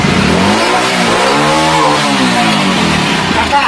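A motorcycle engine revving hard, its pitch sweeping up and then falling back in one loud, close, buzzing rise.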